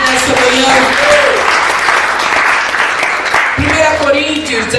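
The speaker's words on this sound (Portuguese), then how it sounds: "Quantos aplaudem o Senhor Jesus nessa manhã" A church congregation applauds loudly and steadily through a Sunday morning worship service, a dense sustained clapping with voices mixed in and a brief dip before it swells again.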